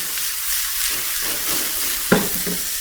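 Zucchini and cauliflower sauté in a hot pan with a dense, loud, hissing sizzle throughout and one brief clatter as the vegetables are moved.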